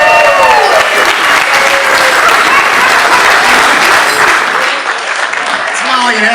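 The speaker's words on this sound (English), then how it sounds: "How about a round of applause?" A crowd at a wedding-themed celebration applauds and cheers the happy couple with loud, dense clapping that fills the space, tapering slightly near the end as a voice speaks over it.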